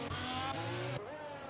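In a racing video game, a race car's engine screams at high revs during an overtake on the Portugal circuit. The pitch shifts abruptly as it changes gear, loud and continuous over a brief span.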